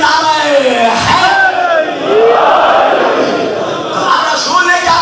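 Many voices chant religious slogans together at a Muharram majlis, loud, close and sustained, with shouted phrases rising and falling in unison.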